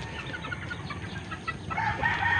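Five-month-old young roosters (stags) crowing and clucking in a farmyard, a continuous layered fowl chatter with a brighter, louder crow rising near the end, no talking.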